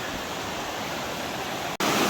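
River water rushes loudly at the edge of falls, a dense, continuous roar close by with a brief dropout near the end, and no voices.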